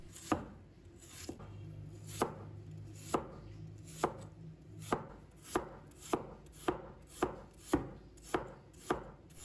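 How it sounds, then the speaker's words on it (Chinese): A knife cuts cleaned Chinese yam into thin slices on a cutting board, producing crisp, evenly spaced thuds that grow faster and more regular toward the end. "放在案板上，把它切成片，片最好切薄片"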